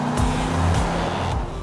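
A Chevrolet Corvette sports car's engine, rated at 345 brake horsepower, growls loudly and steadily up close, a continuous deep rumble with a few swelling pulses and no talking.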